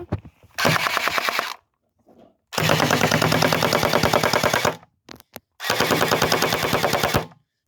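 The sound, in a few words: gun firing pellets (billes)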